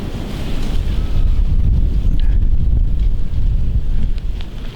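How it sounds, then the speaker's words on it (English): Wind swirls and buffets a microphone outdoors on Michigan public land during deer season, a steady loud low rumble with gusty surges filling the whole stretch, no voices. "So, the wind is swirling bad."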